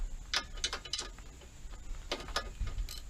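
Bolts on the front latch of a Slingshot are loosened by hand with a ratcheting tool, giving quiet, close clicking bursts in short irregular groups with pauses between them.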